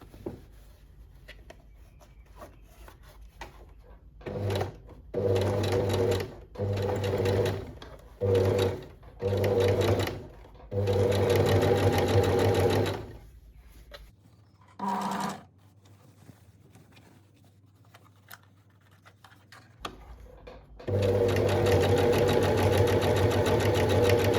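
A sewing machine stitches a turned-up trouser hem in repeated short whirring bursts with pauses between them, then one longer continuous run at the end. Close, with no voices.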